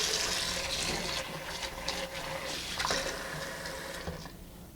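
Kitchen tap water running steadily into a sink while seitan dough is rinsed, a close, continuous splashing flow with small shifts as the dough is handled, fading slightly at the end.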